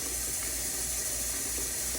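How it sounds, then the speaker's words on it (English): Water swirling in a whirlpool inside a brewing pot during ale making, a steady hissing rush of moving liquid that stays even and unbroken, with no talking. "you see it's generating a little bit of a whirlpool in there"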